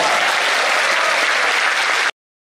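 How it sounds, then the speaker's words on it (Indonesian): Loud, dense applause from a crowd fills the Unida Gontor auditorium steadily, then cuts off abruptly. "tepuk tangan buat Unida"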